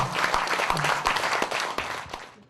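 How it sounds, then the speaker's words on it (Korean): At a Taego Order central council session, the members give a short, dense round of clapping to adopt a resolution, then let it taper off quickly. "이 결의문 채택에 동의하시면은 큰 박수로 한번 채택해 주시기 바랍니다"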